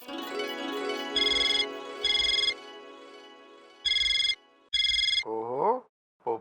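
A telephone rings in repeated double bursts with short pauses while a call is placed, loud and close, then a voice answers at the end.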